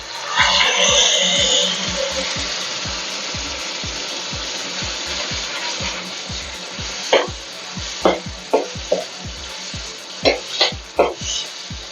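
A paste of onion, tomato and coriander poured into a hot frying pan for homemade kadai chicken, with loud sizzling at first that eases into quieter frying, then scraping and stirring strokes toward the end, over a steady ticking beat.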